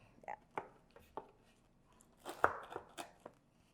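Pizza cutter slicing through the crispy-bottomed crust of a freshly made pizza, a series of short crunchy cuts and scrapes, close by, with a brief louder crunchy burst near the end.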